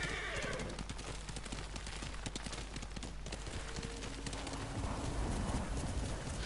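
A horse gallops with a steady clip-clop of hooves and lets out a whinny in Ghost of Tsushima, the hoofbeats loud and close over game ambience with no talking.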